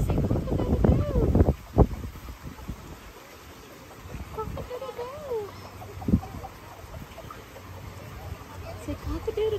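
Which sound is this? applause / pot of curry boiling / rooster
rooster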